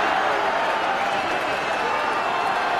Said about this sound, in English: The crowd getting behind the Namibians. They want to see them score a try.